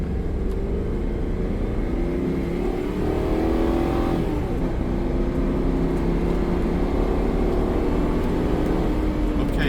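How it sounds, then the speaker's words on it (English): A 2004 Land Rover Discovery 2 with an aftermarket Crower camshaft accelerates hard from standstill to 60 mph, its engine droning loud and steady from inside the cabin as it climbs through the revs, with a brief dip partway through. "Okay, so we're gonna go ahead and do a 0 to 60 run."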